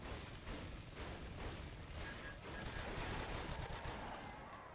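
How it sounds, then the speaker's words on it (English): Rapid, continuous gunfire from a Natural Selection 2 match rattles on for the full stretch, dense volleys overlapping at a steady loud level with no talk. "Nice shooting there by Razgul"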